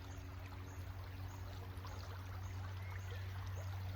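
Soft, steady trickle of flowing stream water, faint and continuous over a low background hum.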